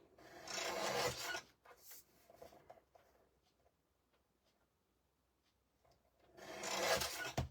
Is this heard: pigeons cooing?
no